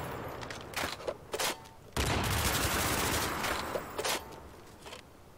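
Automatic gunfire in a video game: short bursts of rapid shots, then a loud sustained full-auto stream, followed by a few more bursts and a quieter tail.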